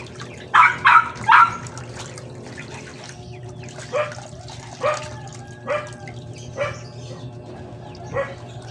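Dogs chasing goats bark at a distance, a quick burst of three barks followed by scattered single barks, over a steady low hum and faint trickling.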